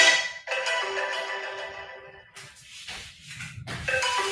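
A watch alarm rings in bursts of bright electronic tones, close and fairly loud, cutting out briefly before sounding again, with rustling in between.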